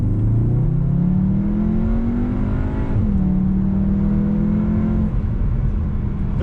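A Cupra car accelerates hard in Cupra mode, its engine pitch climbing toward redline before dropping at each smooth gear shift. Two shifts come in quick succession, loud and close throughout.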